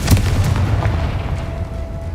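A Confringo spell blast in the Hogwarts Legacy video game goes off as a single loud, deep boom at the start, then a rumbling tail slowly fades over about two seconds, with no voices.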